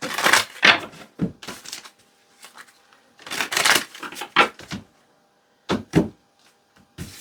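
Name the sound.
shuffling cards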